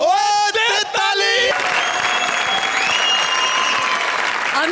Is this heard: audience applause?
yes